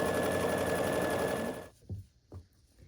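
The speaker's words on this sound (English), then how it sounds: "And we'll just sew across this diagonal here." A sewing machine runs steadily for about a second and a half while stitching across the diagonal of a quilt square, then stops, followed by two soft handling thumps.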